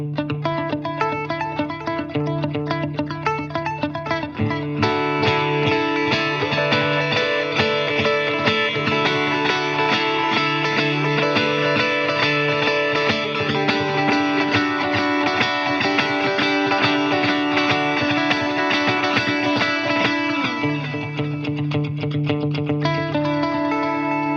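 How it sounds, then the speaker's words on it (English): Electric guitar played through a Wampler Metaverse multi-delay pedal with heavy modulation, sustained notes repeating and shimmering in a dense, wavering wash of echoes. "Cranking up the modulation. It's great for those sort of edge style delay parts."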